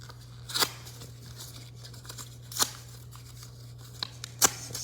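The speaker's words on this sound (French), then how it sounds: "il faut que je déchire bien le passeport kazakhstanais" Hand-tearing of a Kazakh passport, with three sharp rips spaced a couple of seconds apart over a steady low hum, plus a few small crinkles in between.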